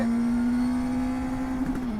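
A 2024 Honda CB 1000R motorcycle engine runs at a steady, strong drone with a brief rev blip near the end, loud and close with no talking.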